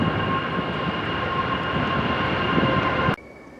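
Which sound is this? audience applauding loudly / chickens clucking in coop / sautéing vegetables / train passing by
train passing by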